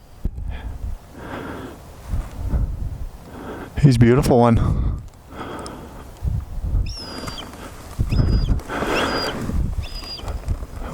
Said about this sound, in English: Oh, you hear that eagle's got something to say, or whatever kind of bird it is.